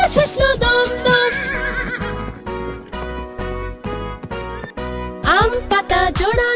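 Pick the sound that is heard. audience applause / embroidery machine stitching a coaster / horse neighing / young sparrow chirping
horse neighing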